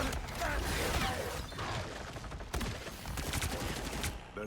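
In Marvel Rivals, a turret keeps up rapid gunfire, with dense, sustained bursts of shots and loud clustered cracks over a busy game soundscape.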